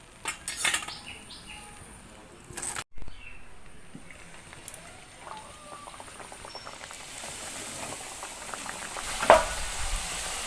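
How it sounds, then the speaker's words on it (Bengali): Papdi frying in oil bubbles and sizzles steadily and close up, growing busier over time, broken by a few handling clatters and one sharp tap. "এরকম ভাবে সবগুলো আমি ভেজে নেব।"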